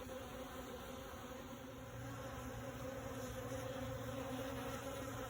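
A steady, close buzzing of many honeybees droning continuously without pause, swept off a hive frame during honey harvesting.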